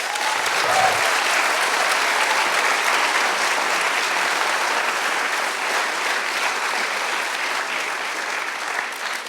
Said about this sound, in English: I would like to have an applause for creatinine.